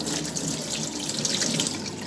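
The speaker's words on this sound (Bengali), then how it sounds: "লবণ দিয়ে মাছগুলোকে ভালো করে ধুয়ে নেব" Tap water runs steadily into a sink while fish are rinsed with salt, a close, continuous splashing rush with no talk over it.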